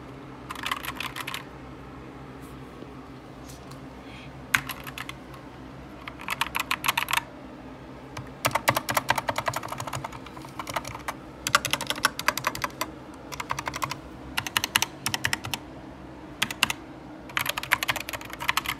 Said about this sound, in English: So y'all wanna hear a typing test? This is what it sounds like.